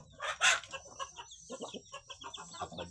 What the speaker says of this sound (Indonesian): kita beternak ayam kampung